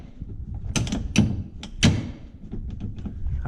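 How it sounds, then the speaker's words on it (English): Door of a Honda Pioneer 1000 UTV being shut and worked, with several sharp clunks and thunks from the latch and rubber stops spaced about half a second apart, close and fairly loud, followed by softer mechanical rattles. "you start contacting here before the door gets all the way shut"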